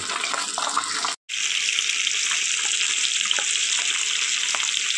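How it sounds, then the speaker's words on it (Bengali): Hilsa fish fries gently in oil, a bright, steady, hissing sizzle with faint crackles, broken by a brief moment of silence before it resumes. "খুব হালকা হাতে মাছটা ভেজে নিয়েছি"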